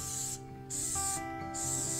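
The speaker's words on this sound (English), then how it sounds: "spray the can," Cooking spray hisses from an aerosol can into small bowls for a biscuits-and-gravy recipe, two long close bursts separated by a short pause, with a steady background hum.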